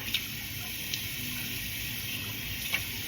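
Tap water runs in a steady, soft hiss at a sink during a nighttime face rinse, with a few faint splashes over the constant flow.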